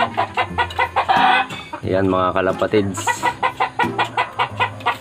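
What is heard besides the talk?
chickens clucking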